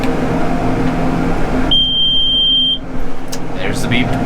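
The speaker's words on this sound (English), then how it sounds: "There's the beep." A single steady electronic beep, held for about a second, sounds from a farm machine cutting a pivot field near houses, cutting through a constant engine drone with voices nearby.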